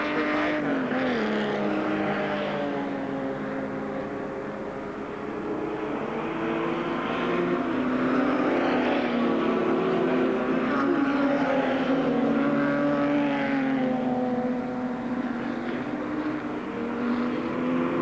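Six-cylinder touring cars, including an ex-Warwick Brooklyn Group A Alfa Romeo GTV, race past at a 1980s New South Wales circuit event, engines droning steadily and swelling as they pass close by, with no talk over them.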